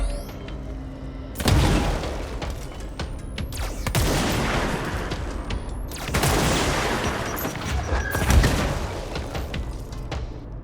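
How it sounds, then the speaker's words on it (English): Grenade launcher rounds exploding in the video game Control, a series of loud booming blasts with debris and shattering crackle, roughly every two seconds, with gunfire rattling between them. "the shield don't really do much against a grenade launcher"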